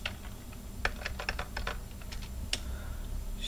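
Keys clack on a computer keyboard in quick irregular bursts as a bash script is typed on an Ubuntu machine, nearby and moderately loud over a faint hum.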